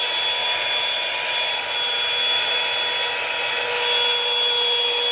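A blowdryer brush drying long hair, a loud, steady whirring hum with a constant high whine, running unbroken and close throughout.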